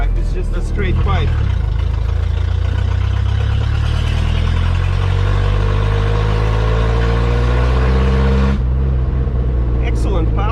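A Citroën DS 19 engine with a straight-pipe exhaust drones loudly and steadily up close, rumbling and unmuffled, with a rev change near the end.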